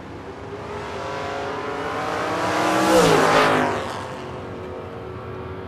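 Drag-racing Chevy Camaros, including a 1970 Camaro 427 and a 1974 Camaro, launch off the line with a loud rising engine roar that swells to a peak as they pass close, then fades into a lower rumble.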